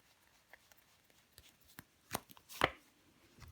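A tarot card is turned over on a table in a quiet room, with a few soft taps and a sharp slide and flip of card stock near the end; no one speaks.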